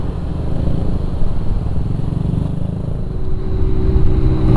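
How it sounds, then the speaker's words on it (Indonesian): Steady roar of heavy road traffic, with many cars and trucks passing continuously and engines rumbling close by, without pause or talk. "banyak sekali mobil truk"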